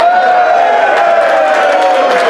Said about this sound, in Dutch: Dus een groot applaus voor HTG Schijndel.